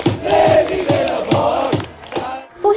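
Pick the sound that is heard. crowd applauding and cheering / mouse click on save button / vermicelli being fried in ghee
crowd applauding and cheering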